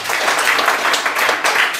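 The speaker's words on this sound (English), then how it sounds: "give me a round of applause for that" Brief applause from an audience at a candidate forum, a short dense burst of clapping throughout.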